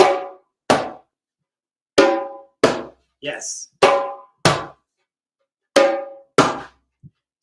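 Sharp hand drum hits alternate between bright slaps and deeper bass strokes in an even pattern, close and loud, with a brief spoken word between strikes.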